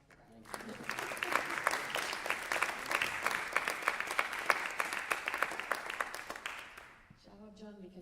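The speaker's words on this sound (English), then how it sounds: "I'm going to applaud for that." An audience at an Iranian music symposium breaks into sustained applause, dense steady clapping that builds quickly, holds, then fades as a voice begins speaking.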